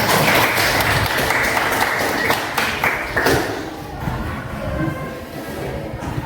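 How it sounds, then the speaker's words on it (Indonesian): Classroom applause from students, a dense burst of clapping that fills the first few seconds and then thins out into scattered claps and room noise. "kasih tepuk tangan"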